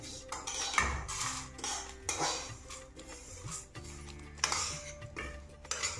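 Roasted vermicelli is scraped from a pan into a bowl with a metal spoon, giving repeated close clinks, scrapes and knocks of metal on cookware in an irregular rhythm, with no talking.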